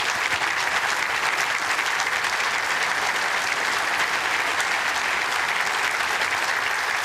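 A crowd at an indoor bowls championship match applauds in a steady, even wash of clapping that lasts the whole stretch without a break.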